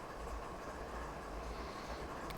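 A heavy freight train in a train simulator video game rolls downhill with a faint, steady low rumble and a soft constant hiss of wheels on rail, without distinct clicks or voices.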